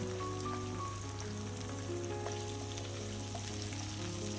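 Onions, chilies and pirandai stems sauté in hot oil in a pan for pirandai stem chutney, giving a steady, continuous crackling sizzle like light rain, close and alone with no talk.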